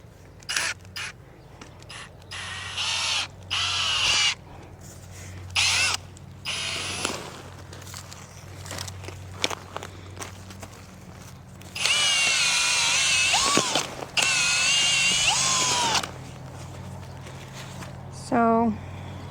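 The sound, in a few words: power auger drilling a hole in garden soil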